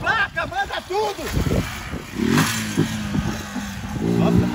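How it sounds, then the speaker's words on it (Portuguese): A motorcycle engine revs and roars nearby, rising and falling, while people talk loudly over it. "Nossa, parece que vai desmontar essa moto."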